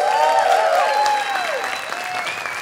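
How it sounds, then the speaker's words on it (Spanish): At a comedy show, the crowd applauds to welcome a comedian on stage. Steady clapping runs throughout, with whistles and whoops rising and sliding over it, loudest at the start and easing slightly toward the end. "vamos a recibir con un fuerte aplauso"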